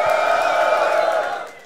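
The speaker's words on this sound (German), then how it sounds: "Ein Applaus für Shih Tzu!" A live audience at a Berlin TOPTIER TAKEOVER event cheers loudly for a player, a dense sustained roar of shouting voices that tapers off at the end.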